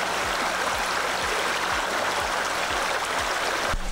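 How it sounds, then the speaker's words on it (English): Spray Falls waterfall rushes in a constant, full roar of falling water, heard close and unbroken, with faint regular low thumps beneath it. "we got on top of the waterfall."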